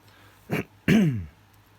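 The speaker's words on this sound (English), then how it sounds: "Excuse me, I've got a bit of a cough today." A short throaty cough followed by a longer, rougher cough or throat clearing, close and fairly loud against a quiet background.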